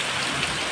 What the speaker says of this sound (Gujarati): આ જોઈ દો વરસાદ